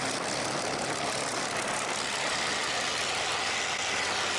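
A Spitfire's piston engine running during the pre-takeoff run-up, held low in RPM, giving a dense, steady roar that fills the whole stretch without change. It sounds close and constant, with no speech.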